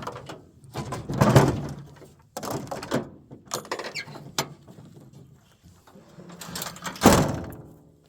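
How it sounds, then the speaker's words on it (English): A pickup truck tailgate is handled and closed with chainsaws in the bed, producing a series of clunks, metallic rattles and creaks in irregular bursts, ending in a louder slam near the end. "Close the tailgate, and these saws can't really go anywhere."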